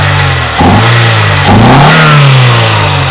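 A rebuilt Mercedes W201 2.5-16 engine with a repaired fuel distributor runs loudly up close, giving two quick blips of the throttle followed by a longer rising rev that swells and settles back.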